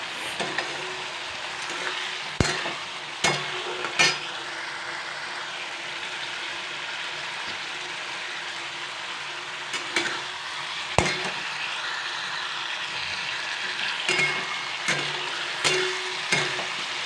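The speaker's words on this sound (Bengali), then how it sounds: "এবার পেঁয়াজ রসুন আদা পেস্টটিকে একটু 1 মিনিটের মতো একটু কষিয়ে নেব" Onion, garlic and ginger paste fries in a pan with a steady close sizzle, broken by sharp clicks and scrapes of a spatula every few seconds.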